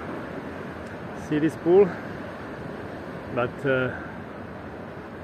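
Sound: gentle ocean waves at Puerto de la Cruz, Tenerife

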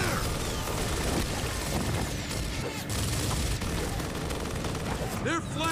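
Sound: gunfire in video game Gears of War

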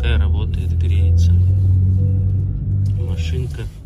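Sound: car engine idling, warming up

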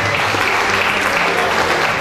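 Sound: audience applause at ceremony

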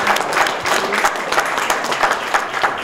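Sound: audience applause

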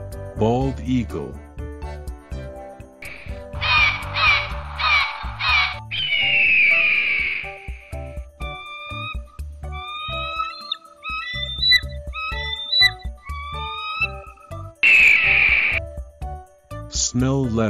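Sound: bald eagle calls

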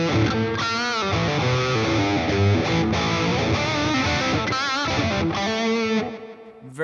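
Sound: electric guitar played with overdrive distortion

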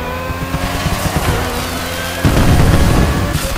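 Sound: car engine revving in The Crew Motorfest video game race

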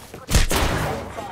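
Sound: gunshots in Apex Legends video game

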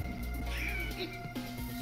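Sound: cats meowing in Final Fantasy video game

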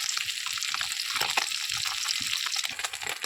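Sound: small fish frying in oil

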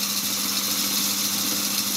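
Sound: mini lathe motor running, cone clutch slipping under load

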